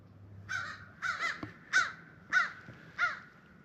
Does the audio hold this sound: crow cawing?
yes